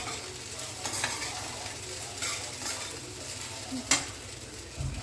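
Sabudana khichadi with crushed peanuts sizzles quietly in a pan while a spoon stirs it, soft continuous frying hiss with occasional scraping and a sharp clink of utensil against the pan near the end, no talking.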